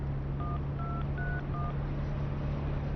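Four short touch-tone beeps from a telephone keypad being dialed, spaced evenly at a steady pace over a low constant hum, clear and close with no talking.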